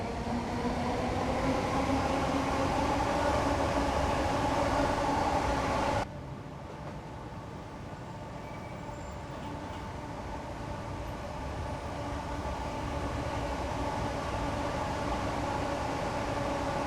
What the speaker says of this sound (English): I'm now applying the brakes just to bring our speed down